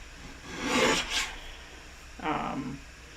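Scissors cutting a strip of yellow paper for layered card crafting, two separate rasping snips with a short pause between, close and fairly quiet.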